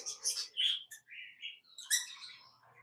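Lovebirds in an aviary chirp and twitter in quick, high bursts, several birds calling over one another at close range with brief gaps between calls.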